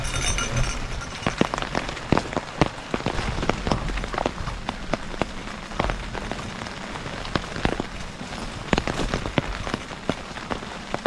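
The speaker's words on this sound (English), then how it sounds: "I was kind of anticipating some rain, so I guess smart move by bringing the umbrella." Rain falling while backpacking in Florida bear country near Lake Arbuckle, a steady close patter of drops with frequent sharp taps, likely on an umbrella, continuous throughout.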